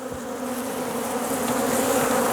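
Honey bees buzz in a dense, continuous drone at the hive during syrup feeding, close and steady, gradually growing slightly louder, with no talking.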